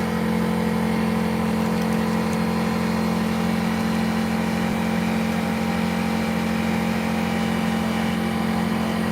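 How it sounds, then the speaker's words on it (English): An air compressor runs nonstop during mask painting, a loud, even mechanical drone with a strong low hum that holds steady throughout, with no talking. "Gotta wait for that air compressor to shut off so I can talk"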